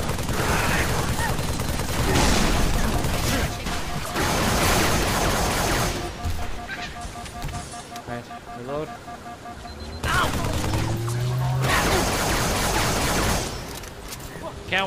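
Gunfire in the video game Halo 3: dense, continuous battle shooting with rapid bursts and booms, a brief lull in the middle, and voices talking over the din.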